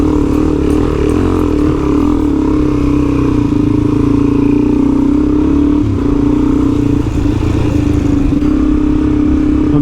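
A motorcycle ridden through soft sand in the Simpson Desert, its engine droning loud and steady at close range, with the rider shifting into second gear and some clatter over the hum.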